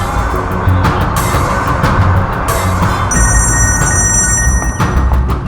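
A phone's electronic ring starts partway through, a high, repeating tone over busy background noise.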